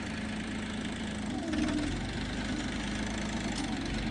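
A new tractor engine running steadily with a rotary tiller attached at about 1000 rpm, a continuous low mechanical drone that swells slightly partway through, with no talk over it.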